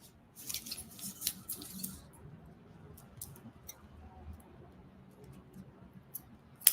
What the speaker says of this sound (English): And then I'm just going to clip the top of the zipper off.